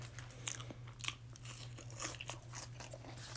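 Close, quiet crunching and chewing of thick Burger King fries, irregular bites and mouth sounds over a low steady hum, with no voices.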